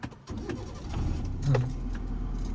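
A car engine is started with the clutch held down while setting off in first gear on half clutch. It gives a close, low rumble that kicks in early and settles into a steady idle, with no talking.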